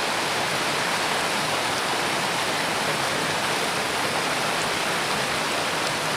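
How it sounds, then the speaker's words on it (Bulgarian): A small turbulent river foams and churns over rocks, a steady, dense rushing roar heard up close without a break and with no voices. "Гледайте тази буйна малка ретичка, както минава тук. И пени своите води."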